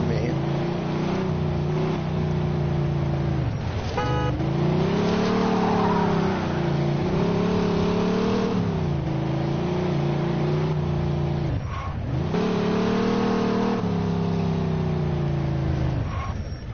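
A car engine in the video game Mafia 2 revs steadily for the whole stretch, its pitch rising and dipping in several swells, loud and close with no talk over it.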